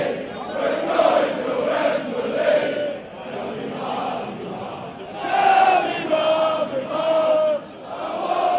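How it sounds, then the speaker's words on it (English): Football supporters at St James' Park buzz after Newcastle's 2-0 win over Tottenham, a loud continuous crowd roar with rising chants and surges of singing, no individual voice standing out. "crowd is buzzing after that one"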